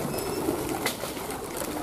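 A free-range flock of farmed pigeons coos softly with occasional wing flaps, a low, continuous murmur of birds close by.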